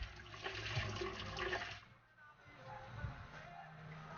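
Water splashes and runs while a face is rinsed during a skincare routine, a steady watery wash for about two seconds that then fades to quieter trickles and a brief splash near the end.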